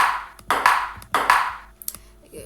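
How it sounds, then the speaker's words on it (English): A short hit sound effect for a ball striking a paddle in a Pong game plays several times, crisp tonal pings with quick decays separated by brief gaps, clear and isolated without talk. "the only sound effect there's going to be is when the ball hits the paddle"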